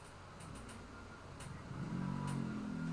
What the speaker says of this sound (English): I've got a motorcycle nearby.